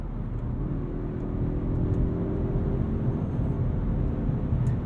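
The turbocharged four-cylinder of a 2023 Mazda3 hatch hums as a low, subdued drone from inside the cabin while driving, steady with slight swelling and smooth road noise beneath.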